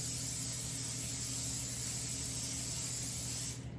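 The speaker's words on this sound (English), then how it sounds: "You spray her off a little bit." A plastic spray bottle with a balky nozzle mists a sheet pan in one steady, close hiss that runs for several seconds before cutting off.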